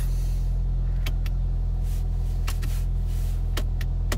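A Volkswagen Jetta engine idles steadily after starting, giving a constant low rumble heard close and alone, with a few faint clicks.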